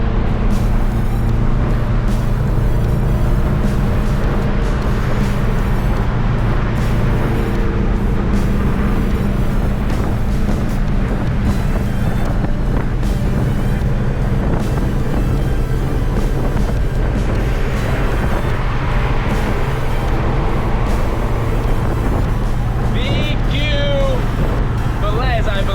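A Honda Civic EG with a swapped H22 engine drones steadily from inside while driving, a loud continuous low engine tone with road and wind rumble throughout, and a brief higher whine near the end.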